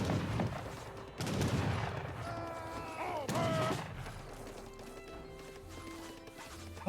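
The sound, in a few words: siege artillery firing in Age of Empires 3 video game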